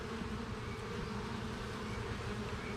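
Honey bees in a hive make a dense, continuous buzzing hum, close and steady with layered low drone tones, no talk.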